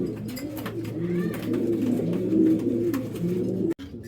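Racing pigeons cooing inside a cage, a close, continuous layer of low throaty coos from several birds overlapping with a soft rolling rhythm, ending in a sudden brief dropout.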